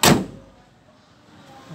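A Mitsubishi L300 back door swings shut with one solid thud at the start, and a faint hollow decay follows with no talk.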